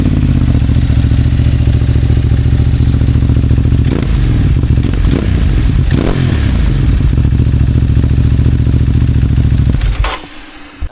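Ducati Desert X motorcycle engine and exhaust running up close, a loud steady throbbing drone with a few clattering blips and rev changes before it cuts off near the end.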